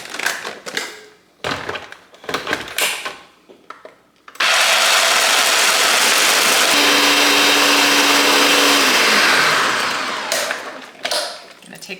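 A blender grinds homemade Nutella in a loud, steady roar that runs for several seconds and then winds down, with a person talking before and after it.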